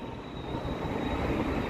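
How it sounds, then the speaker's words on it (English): A train running on a test run without passengers in Toronto, a steady broad rumbling roar with a faint high whine, continuous and fairly loud throughout, no voices. "Just running the trains regularly for 30 days."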